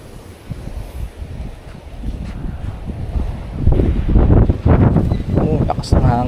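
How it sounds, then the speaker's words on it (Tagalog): Strong gusts buffet the microphone outdoors, a low rumbling roar that swells and intensifies toward the end, loud and continuous. "Oh, lakas ng hangin."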